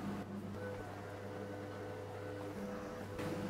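A microwave oven runs with a constant low hum and faint whirring, steady and unbroken apart from a slight shift near the end, with an iPhone XS Max inside.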